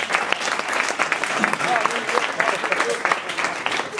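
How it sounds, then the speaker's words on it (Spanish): Audience applause for a sound technician at a flamenco comedy stage show, a dense, steady clapping from a full crowd lasting several seconds, fairly loud and close. "Fuerte aplauso para Iván Jales, nuestro técnico de sonido."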